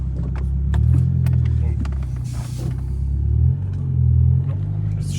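A BMW E36 fitted with a smaller turbo rumbles loudly up close, its engine revving and falling back in low surges, with people talking over it.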